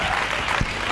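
A church congregation applauding during a French-language worship service, dense close clapping that fills the brief moment, with faint voices mixed in.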